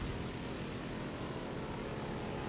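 Propeller engines of a Ki-43 and a Hawk-III fighter plane roaring at full throttle in War Thunder, a dense, loud, unbroken drone with no talking.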